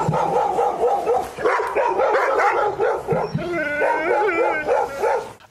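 A dog barks again and again in quick, close bursts, mixing sharp yips with whiny whimpers, with only brief gaps between them.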